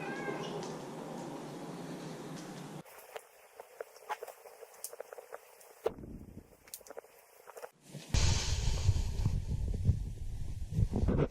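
Boomer, a pet cat, meows several times in short bursts across a few quick cuts, close to the listener, with some soft shuffling and background room noise in between.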